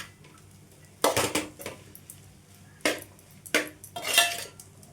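A metal utensil stirs egg Maggi masala noodles in a pan over a medium flame, making a few sharp, close scraping clinks in separate bursts against a quiet background.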